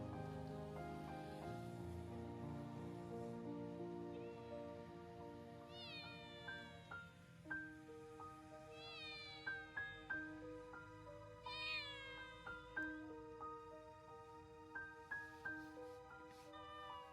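Several abandoned kittens, cold in a field at 2 degrees Celsius, mew over and over in thin, high, overlapping cries that become a quick run of short repeated calls, set against a steady, soft rain-like hiss.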